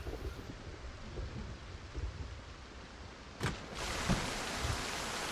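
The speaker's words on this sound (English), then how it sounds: "And yeah, it's a little bit rainy." A thunderstorm with rain in the Project Zomboid video game, a steady wash of rainfall with a sharp thunder crack partway through and heavier rain after it.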